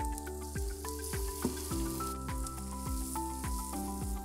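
Minced lemongrass, garlic and chili sizzling in hot oil with annatto oil for bún mắm, a continuous crackling fry layered under steady background music, with no talk.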